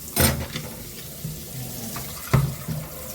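Tap water runs into a kitchen sink while dishes and spoons are washed one piece at a time, a steady close splashing stream with a few louder sloshes and clinks of utensils, no talking.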